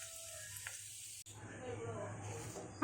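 Dried red chillies, fennel and fenugreek seeds sizzle in hot oil for a bitter gourd curry, a steady close crackling hiss that grows louder after a sharp click midway.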